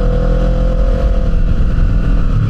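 A motorcycle runs along a dark, winding forest road toward Citorek in Lebak, Banten, with a loud, steady engine drone held close and continuous throughout, no voices.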